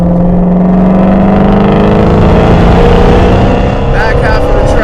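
A Shelby GT350 Mustang with the HPE850 package accelerating hard through the gears on a track, loud close engine roar with rising pitch sweeping up through each gear under the sound of a voice talking.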